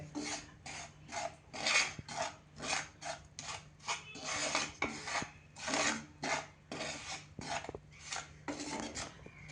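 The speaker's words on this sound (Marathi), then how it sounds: "आपण जे ही पावडर, या सगळ्या पावडरी घेतलेल्या आहेत त्या आपण गरम पॅनवरती भाजून घेतोय" Spice powders are stirred and dry-roasted on a hot pan for a kitchen king masala blend, heard as rhythmic scraping rasps of a spoon across the pan, about twenty strokes in steady succession, close and fairly quiet, with no talking.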